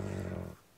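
Aggressive dogs in the Minecraft video game give a short, low growl lasting about half a second, which then cuts off into near silence.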